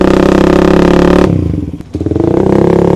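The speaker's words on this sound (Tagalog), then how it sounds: "so cold start muna tayo ha. Cold start lang muna." A Suzuki Raider 150 Fi motorcycle cold-starting with a loud, close, steady engine drone that dips briefly mid-clip before settling back into an even idle.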